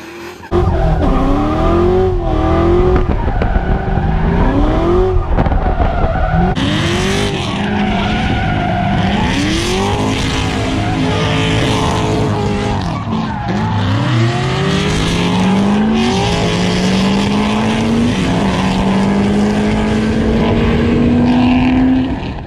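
A car drifts with tires squealing, its engine revving up and down in long rising and falling sweeps. Loud and sustained throughout, with no talking.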